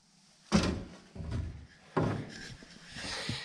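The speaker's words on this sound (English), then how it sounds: "These are really solid doors." A hot rod car door with solid, chopped bodywork swings open and shuts, giving two firm thuds about a second and a half apart with a lighter creak and rattle between them, close by and with no talking.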